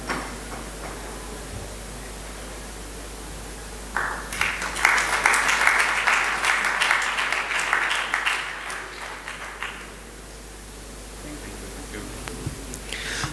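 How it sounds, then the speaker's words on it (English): Applause for a speaker at a technology talk rises suddenly after a quiet stretch, swells for several seconds, then thins out into scattered claps over a low room hum. "Can we have a thunderous round of applause for Sangmesh Hirmath?"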